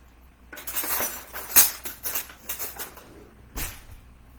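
A butter knife clinks and scrapes against a plate and pastry while ricotta icing is spread on a cream puff, giving a few near, irregular taps and smears with a sharper clink in the middle.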